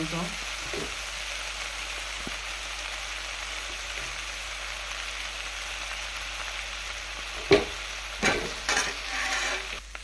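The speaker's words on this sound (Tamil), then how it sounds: "இப்போ வந்து நம்ம சாம்பார் தாளிச்சிடுவோம்" Tomato fries in oil in a pan while sambar is being tempered, making a steady, close sizzle that runs throughout, with a few clinks and stirring knocks near the end.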